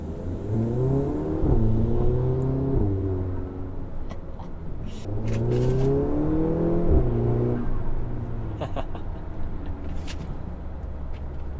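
An Audi A3 with an APR Stage 2 tune and Milltek non-resonated cat-back exhaust revs up and down twice with a deep, throaty exhaust tone, loud and close, steady rumble between the pulls.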